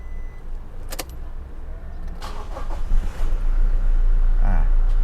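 Keys jingle and a click sounds, then a 2018 Toyota Revo 2.4 pickup truck engine cranks and catches, settling into a loud, steady idle close by.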